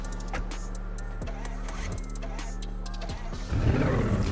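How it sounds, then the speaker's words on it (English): Car engine in GTA 5 cranking and refusing to catch, a low rhythmic chugging that repeats several times before a louder rumbling surge near the end, with voices faintly present. "why the car sound like it don't wanna crank up"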